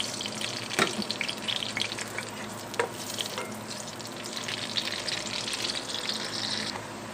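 Small garlic pieces fry in oil and butter in a kadai, giving a dense, continuous sizzling crackle with a few sharper pops and scrapes, close and fairly quiet.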